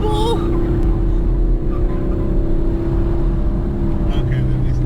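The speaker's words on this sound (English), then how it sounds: "We are literally drifting, people." A 2016 Chevrolet Camaro 2SS drifts on a race track, its engine holding a loud, steady droning note inside the cabin with a faint tire hiss, while people talk over it.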